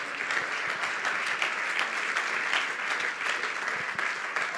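A church congregation claps in a strong, sustained round of applause, dense and even throughout with a slight rhythmic pulse and no voices over it.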